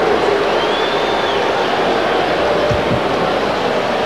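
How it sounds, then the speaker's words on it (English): Crowd at the 1996 NBA All-Star Game reacting after a tomahawk dunk, a steady, dense arena roar holding at one loud level throughout with no single voice standing out. "you hear the reaction from the crowd"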